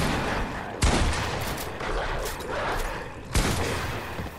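Gunfire in an arena match of a shooter game on PS5: dense, continuous rapid shots with heavier bursts standing out near the start and toward the end.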